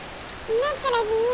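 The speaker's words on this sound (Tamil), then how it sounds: "அக்கா, பெரிய மழையா பெய்யுதுக்கா." Heavy rain falls in a steady, dense hiss throughout, while a voice briefly speaks over it.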